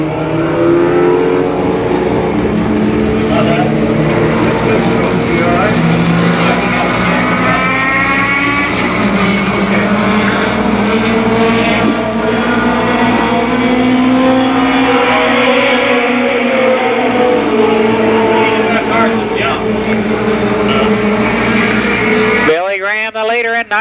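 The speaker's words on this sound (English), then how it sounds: "2 laps still completed of this 10-lap heat race." ARCA Pro 4 race cars roar continuously through a 10-lap heat race at Columbus Motor Speedway, engines loud and sustained with rising and falling pitch as cars pass, while an announcer talks over the din.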